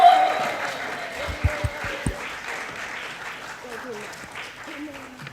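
Audience applause at a kapa haka festival, a broad patter of clapping with a few sharper claps standing out, mixed with an announcer's voice and cheering.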